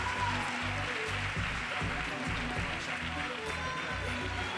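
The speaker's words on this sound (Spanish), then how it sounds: "Un fortísimo aplauso." An audience applauds a champion at a 2018 provincial fitness and bodybuilding championship in Cádiz, a steady, dense wash of clapping over a thumping musical beat.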